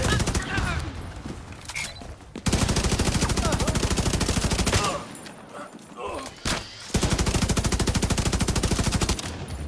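Sustained bursts of rapid automatic gunfire from a sniper turret in Tom Clancy's The Division 2, loud and close, with short pauses between volleys; a voice speaks over the shooting.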